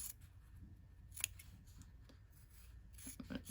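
Sharp scissors snip through the fabric corners of a sewn shirt cuff, giving a few quiet, close crisp cuts with soft rubbing of cloth between them.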